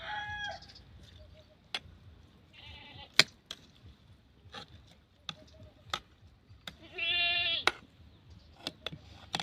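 Goats bleat in several short, separate calls spread across the stretch, with one longer, louder cry near the end, alongside scattered clicks and faint background noise and no talk.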